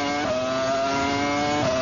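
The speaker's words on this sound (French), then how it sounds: "Le moteur Ferrari dans la Sauber." Ferrari V10 engine in a Sauber Formula One car at the 2003 US Grand Prix, a steady high-pitched scream with gear changes as it runs down a long straight, loud and continuous throughout.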